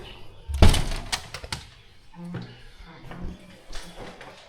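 The front door of a house in Chiang Mai thuds shut with one sharp knock, followed by softer rattles and handling noises; a person speaks nearby.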